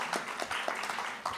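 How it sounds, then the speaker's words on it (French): Faint audience applause for a panel guest at a talk on organic farming, heard as a thin, steady patter of clapping with a few sharper individual claps, no voices over it. "Ensuite, vous pouvez l'applaudir"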